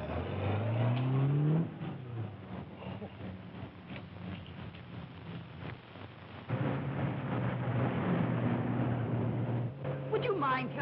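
An old car's engine revs and pulls away in a war-era film scene, a loud rumbling drone rising and shifting throughout, with a brief tonal sweep early on and a surge in level partway through.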